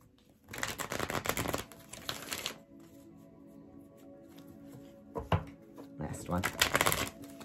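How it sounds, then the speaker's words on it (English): Bursts of rapid papery riffling as tarot cards are shuffled, two main bouts separated by a quieter pause, close and fairly loud. "Two more shuffles."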